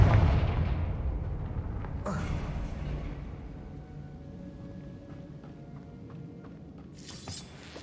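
A Confringo fire spell blasting in Hogwarts Legacy, a loud booming burst at the start that rumbles and decays, followed by sharp cracking impacts and a fainter crackle near the end.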